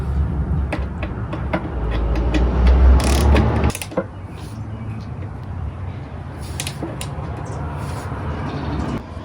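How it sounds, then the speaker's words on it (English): A ratchet on an extension turning a 10mm bolt on a mower, rapid close clicking for a few seconds, then a pause and scattered lighter clicks and taps. "You just want to throw your ratchet on an extension here."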